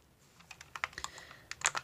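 Buttons on a square, retro-style Gamestick controller click in quick, irregular bursts, crisp and close, with no voices.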